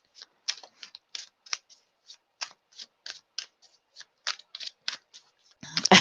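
Tarot cards being shuffled before a reading, a run of crisp riffling flicks and soft slaps in an irregular rhythm, close and fairly quiet, ending in a louder rustle.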